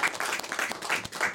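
Church congregation applauding: dense, continuous clapping from many hands fills the space with an uneven, lively rhythm, fairly close and loud, with a faint voice or two mixed in beneath.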